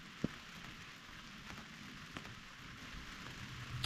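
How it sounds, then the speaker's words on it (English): Light rain falls on a cheap $14 tent at an overnight camp, making a soft, steady hiss with a few isolated drop taps, quiet and continuous. "It just started to rain."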